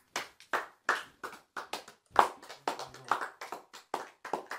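A congregation at a midnight prayer service claps in praise, giving irregular sharp bursts of hand claps at moderate volume with brief quiet gaps between them.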